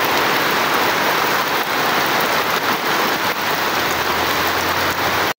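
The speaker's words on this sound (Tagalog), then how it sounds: "lakas talaga ng ulan" Heavy rain pours down steadily in Bicol in the Philippines, a loud, dense, unbroken hiss of rain hitting surfaces throughout, with no voices.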